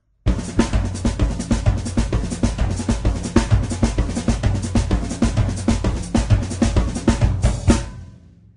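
A drum set plays an up-tempo samba batucada groove, dense driving kick and tom thumps under constant bright snare and cymbal hits, loud and close for several seconds before ringing out, with no voices.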